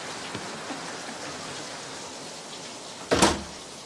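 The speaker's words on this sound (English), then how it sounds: "It never did stop raining on Chiloe" Steady soft rain patter on Chiloé Island, faint and even, with a few tiny drips and a sudden louder clatter near the end.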